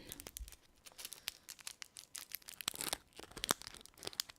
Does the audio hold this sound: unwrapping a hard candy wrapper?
yes